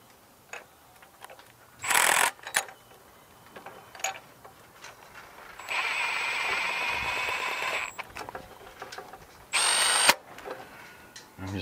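A power drill runs in three close bursts, two short and one longer of about two seconds, snugging bolts on a Husqvarna YTH2348 riding mower, with clicks and handling noises between runs.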